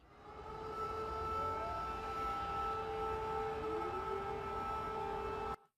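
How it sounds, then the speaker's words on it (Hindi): A distant air raid siren in Ukraine wails steadily over a dense rumbling background, its tone bending slightly as it sustains, then cutting off abruptly. "इमीडिएटली एक एयर रेड सायरन बजता है"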